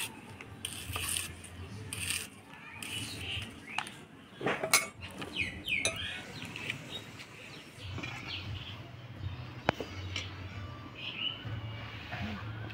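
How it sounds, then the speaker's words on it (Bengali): A knife cuts green tomatoes into long strips in a home kitchen, giving quiet, irregular taps and clinks against a board or plate, with faint bird calls in the background. "কাঁচা টমেটোগুলো আমি একটু লম্বা লম্বা করে কেটে নিব।"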